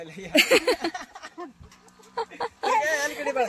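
Big chickens and roosters cluck in short bursts close by, between and under a person talking.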